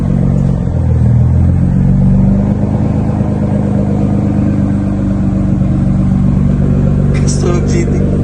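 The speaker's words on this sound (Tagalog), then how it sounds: "pakinggan niyo yung tunog ng V6 ng 6-cylinder na Camry" A Toyota Camry V6 six-cylinder engine runs after a cold start, a steady low mechanical hum and rumble close by, with a brief faint clatter near the end.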